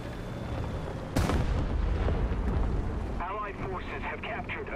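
Artillery fire in a tank combat game: a heavy boom strikes suddenly and rolls into rumbling impacts, while a voice talks over the steady engine and battle noise.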